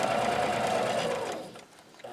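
A sewing machine hums at speed as fabric is fed through the presser foot for a hot pad, a close continuous whir that winds down near the end.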